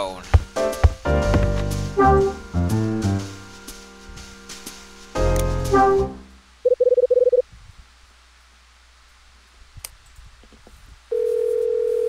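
Telephone being dialed in a video game: a quick run of beeping keypad tones over the first half, then silence broken by two steady electronic tone bursts.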